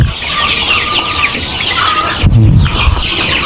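Laying hens on a poultry farm make a dense, continuous chorus of clucks and squawks, with a louder burst of nearby squealing partway through.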